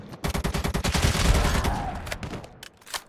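Rapid gunfire bursts from the video game ZOZ: Final Hour, loud and dense at first, overlapping shots that thin into scattered single cracks toward the end.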